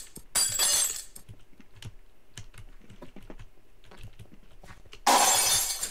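Window glass shatters in Minecraft, two bright crashing bursts at the start and end with a patter of softer clicks and thumps between them.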